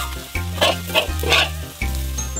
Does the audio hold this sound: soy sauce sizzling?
yes